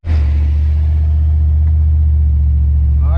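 A Calypso car's engine runs loud and steady through its first drive down the road, a deep constant rumble with a slight rise in revs near the end.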